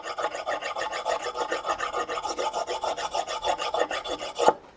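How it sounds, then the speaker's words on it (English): A diamond file rasps back and forth across a drill bit's cutting edge over timber, in steady rhythmic strokes that run close and continuous before a sharper scrape and a sudden stop. "So this is a diamond file, a bit like a diamond stone."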